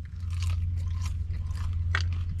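A huge piece of crunchy bacon is bitten and chewed close up at a diner, giving a few sharp crunches and crackly chews over a low steady background hum.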